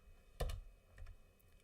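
Typing on a computer keyboard: a quick cluster of close, quiet key clicks, then a few softer taps after a brief pause.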